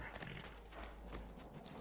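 Horse hooves clip-clop at a steady walking pace in Assassin's Creed II, with soft, rhythmic thuds over a low background hum and no voices.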